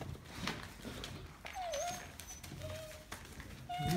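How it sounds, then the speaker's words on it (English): Several German Shepherd puppies whimper in a home kitchen, giving a few thin, rising and falling whines at moderate volume over a steady background murmur. "14 little puppies in the kitchen."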